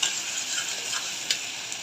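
Dried chepa shutki fish frying with onion and garlic in a pan gives a steady close sizzle with a few light stirring clicks, with no voices.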